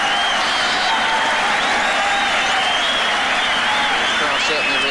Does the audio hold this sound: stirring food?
no